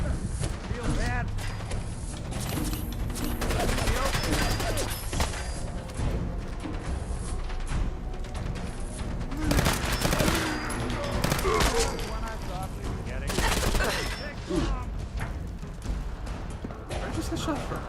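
Video game gunfire from the wasteland setting, repeated bursts of shots and volleys that keep coming throughout the clip under a busy mix of other sounds, with voices talking over it.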